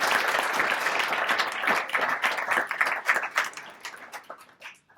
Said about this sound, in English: let's get a massive applause for Rob for doing those nice 2 intros for me